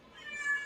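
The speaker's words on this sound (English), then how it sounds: "That's my cat crying" A pet cat gives a single short, faint meow, heard alone.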